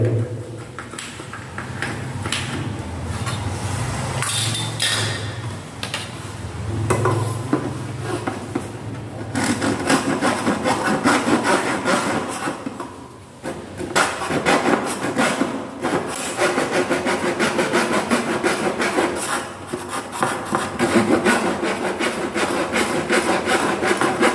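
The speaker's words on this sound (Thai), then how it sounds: "ขีดตรงไหนเลื่อยตรงนั้นเลยนะ" Steady back-and-forth hand sawing through wood wall trim, continuous rasping strokes close by with a brief pause midway.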